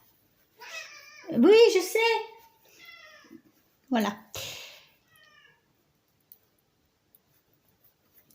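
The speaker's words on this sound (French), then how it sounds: "Oh, c'est le chat." A house cat meows loudly and close by, one long, rising and falling cry followed by a shorter meow, while someone talks in French beside it.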